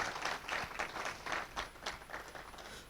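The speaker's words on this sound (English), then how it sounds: "Please give her one more round of applause" Faint applause from a crowd at the launch of Ghana's food-based dietary guidelines, a steady patter of hand claps heard from a distance.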